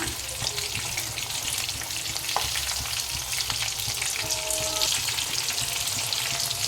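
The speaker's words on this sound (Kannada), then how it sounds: "ಒಂದು ಸೈಡು ಬೆಂದಿದೆ, ಉಲ್ಟಾ ಹಾಕೊಳ್ಳೋಣ." Chicken pieces fry in hot oil in a pan with a loud, steady close sizzle, broken by brief scrapes and clinks as a utensil turns them over.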